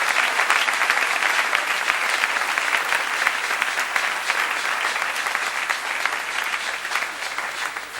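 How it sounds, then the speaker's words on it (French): A church congregation applauding loudly and continuously for several seconds, a dense steady clapping wash from a large crowd. "Est-ce que vous voulez les saluer avec moi en acclamant très fort?"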